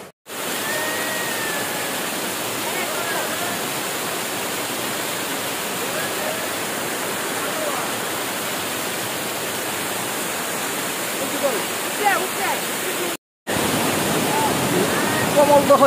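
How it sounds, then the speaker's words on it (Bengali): Komoldoho waterfall in full flow after the rains, a loud continuous roar of falling water close by, steady throughout with a brief cut near the end. "ঝর্ণায় প্রচুর পানি, খুবই ভালো লাগছে।"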